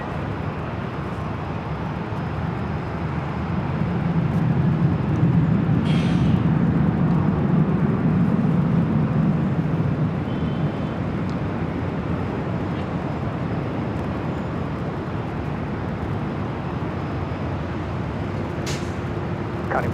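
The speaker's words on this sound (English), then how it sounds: "That's 787-9 Dreamliner." Air Premia Boeing 787-9 Dreamliner taking off from LAX, a broad distant jet roar that swells in the middle and then holds as a steady rushing rumble, with faint radio-like blips.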